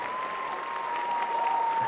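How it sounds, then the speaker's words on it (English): A crowd cheer sound effect: steady applause and crowd noise holding at a moderate level throughout, swelling slightly toward the end. "we both got the crowd cheer sound"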